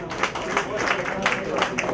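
An audience at a chamber of commerce event in New York applauds, a steady patter of many hands clapping at moderate volume, with a voice audible underneath.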